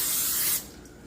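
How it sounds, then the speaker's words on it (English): Cooking spray misted onto a pan before making eggs, a steady close hiss that runs for about half a second and then stops, leaving quiet room noise. "I'm spraying my pan for my eggs."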